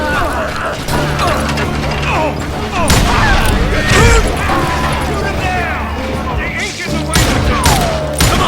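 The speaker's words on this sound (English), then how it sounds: "bullets were flying every which way as all the old feuds in Kansas caught fire all at once" Gunfire in the Wild West shooter Call of Juarez Gunslinger during a Kansas feud shootout: a dense, continuous clatter of overlapping shots and mechanical clicks over a loud rumbling battle din, with a voice speaking underneath.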